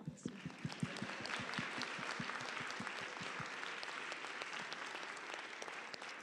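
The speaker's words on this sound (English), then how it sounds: "give us a round of applause" Audience applause fills a TEDx William & Mary 2020 event: dense, steady clapping from a large crowd that holds at an even level from start to finish, with a few sharper claps standing out early on.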